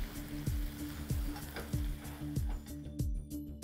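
A steak sizzles loudly in a pan while being basted, with rhythmic spoon scrapes and splashes about every half second over a continuous fry, close up and without talk.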